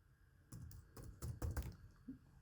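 Typing on a computer keyboard while entering a form name in HTML: a short burst of several quiet keystrokes in irregular rhythm, faint and close, with no talking.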